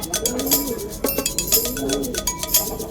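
Racing pigeons coo in soft low repeated phrases amid clinking, rustling loft noise, the cooing partly masked by the busy background.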